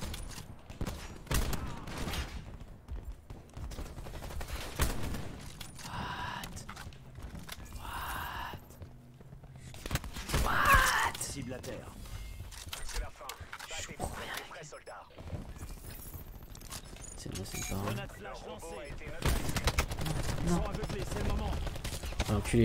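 Gunfire in a video game, bursts of rapid shots spraying bullets in quick sharp cracks scattered through the stretch, mixed with other game noise while players talk excitedly over it.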